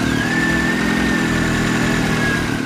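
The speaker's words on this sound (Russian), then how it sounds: "Запуск двигателя." Engine of a Daewoo Nexia, a 1.5 L 8-valve, 80 hp unit, running steadily close by with an even mid-pitched hum and a faint whine on top; no clear cranking is heard.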